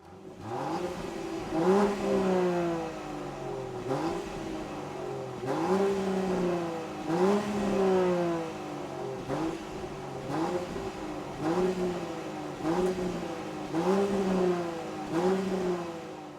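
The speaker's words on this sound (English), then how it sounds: "We have the 2024 Land Rover Defender. Listen to that engine." A 2024 Land Rover Defender 130 engine revs repeatedly, pitch climbing and dropping in steady cycles roughly every two seconds, a continuous mid-range growl heard fairly close.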